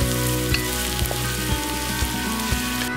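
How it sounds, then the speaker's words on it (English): Carrots frying in oil in a wok for fried rice, a dense, loud, continuous sizzle with a faint regular tapping underneath. "add in the toughest vegetable first, which are the carrots, and let it fry for about a minute or 2 until the carrots are tender"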